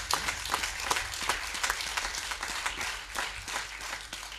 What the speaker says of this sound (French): Je pense qu'on peut l'applaudir bien fort.